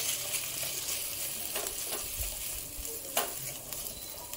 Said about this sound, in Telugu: ఇప్పుడు దీంట్లోకి ముందుగా బాయిల్ చేసి మ్యాష్ చేసుకున్న పొటాటోని యాడ్ చేసుకుందాం. బాగా మిక్స్ చేసుకుందాము.